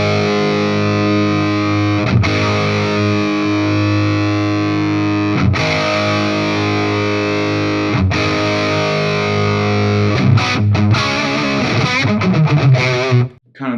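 Electric guitar through a Hayden Classic Lead 80 amp set toward the upper register, a full, driven sustained chord tone played loud and continuous, with brief re-attacks and a busier run of picked notes near the end, no voices.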